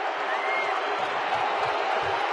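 A baseball crowd at a Dodgers vs. Diamondbacks game in Los Angeles booms and cheers as Zack Greinke steps up to bat, a steady, dense roar of many voices.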